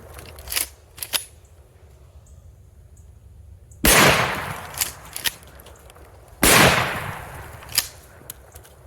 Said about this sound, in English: All right, when you're ready, go ahead and shoot it.